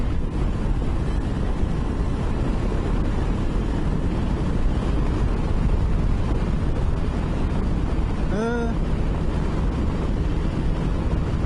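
Loud, constant roar of wind buffeting a rider on a motorcycle with a cheap screen extender at 70 on the road, dense and unbroken, with a brief rising whine near the end.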